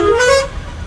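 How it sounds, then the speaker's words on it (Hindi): A single loud, close vehicle horn at the Patna bus stand gives a brief tonal blast under a steady background of traffic. "8 महीने बाद ये हॉर्न सुन रहा हूँ"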